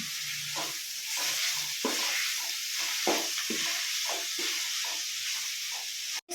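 Onion, garlic and tomato fry in a pan with a steady close sizzle, while repeated stirring scrapes and taps come through at an uneven rhythm with no voices.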